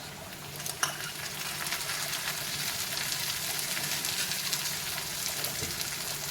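Tomatoes frying in a pan with golden-browned onions while making upma, a steady soft sizzle running through the whole stretch with a faint clink near the start and no one talking.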